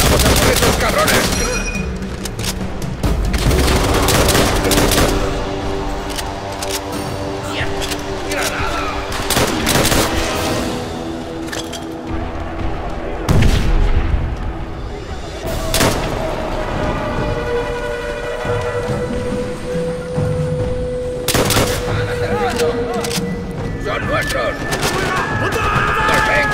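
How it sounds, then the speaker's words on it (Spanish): Sustained gunfire from the World War II shooter Call of Duty: World at War, with dense bursts of rifle and machine-gun fire and sharp loud shots repeating throughout, while shouted voices and game effects sound underneath. "¡Fuerza! ¡Sigan disparando!"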